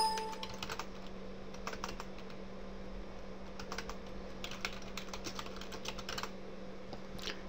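Steady typing on a computer keyboard while entering a service configuration on a networking setup, with irregular clusters of close key clicks over a constant low electrical hum, no talking.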